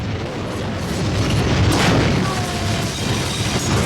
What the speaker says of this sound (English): Firecrackers are going off.